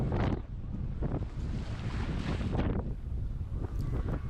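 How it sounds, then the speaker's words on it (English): Rough water slapping around a kayak on open sea with whitecaps and strong current, heavy wind buffeting the microphone and waves churning loudly throughout. "The current is absolutely ripping. The waves are just relentless."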